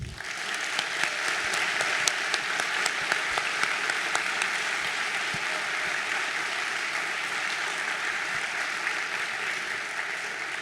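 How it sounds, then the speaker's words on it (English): A large audience applauds steadily for Rose Scholars at a college in-service gathering, dense continuous clapping that holds at an even level from start to finish with no voices on top. "A warm round of applause for our incredible Rose Scholars."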